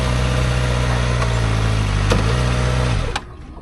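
A motorbike engine idles steadily and loudly up close as it is parked, a constant low hum that cuts out near the end, leaving quiet.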